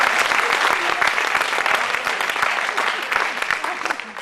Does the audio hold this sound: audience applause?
yes